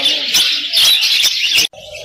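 A pair of small caged birds at a Lahore bird market gives repeated bright chirps and calls, loud and close, in quick busy bursts with a brief pause near the end.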